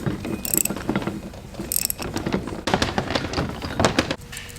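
Bolts are tightened on a GM Duramax truck front differential housing with a ratchet, making rapid clicking bursts with metallic taps and clinks between them, close and clear.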